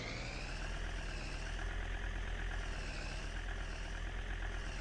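A van engine idles steadily in Farming Simulator 19 while the vehicle is parked in a workshop, a continuous low rumble with a constant hum and no talking.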